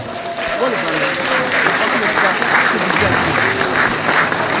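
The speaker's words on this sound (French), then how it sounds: "On peut l'applaudir, ce grand président." A crowd at a political investiture ceremony applauds a president with sustained, loud clapping, while voices and cheering rise through the dense applause.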